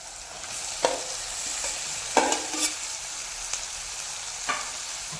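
Potatoes for aloo sabzi stir-frying in a pan, with a steady close sizzle and a few sharp scraping strokes of the spoon at irregular intervals.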